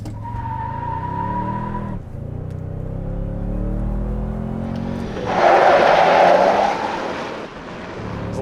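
A 2023 Toyota Sequoia Capstone with a twin-turbo V6 hybrid launches hard: a steady low engine drone rises in pitch, drops briefly, then climbs again into a louder rushing surge, with no talking.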